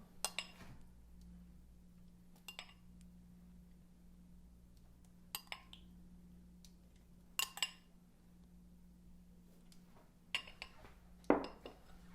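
Spoon scraping and tapping against a metal muffin tin as chicken meatball mixture is portioned into each cup, a series of sparse, light clinks spaced a few seconds apart in a quiet room.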